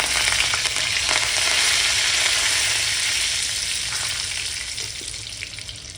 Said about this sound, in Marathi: आता आपण ह्याच्यामध्ये लसूण टाकूया.